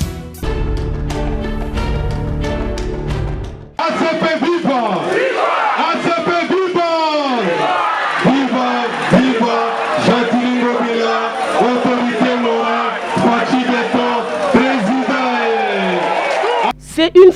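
A large crowd, mostly women, cheers and ululates loudly in the municipal stadium of Massina, a dense and continuous roar of high voices after an opening burst of music.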